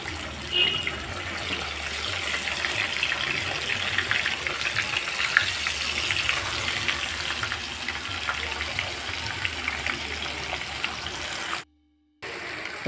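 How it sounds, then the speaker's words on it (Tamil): Masala-coated chicken pieces frying in hot oil make a loud, continuous hiss that holds steady throughout, then cuts out for a brief silent moment near the end before resuming. "ஒரு பீஸாக எடுத்து வச்சு அப்படியே ஃப்ரை பண்ணி எடுத்துட வேண்டியதான்"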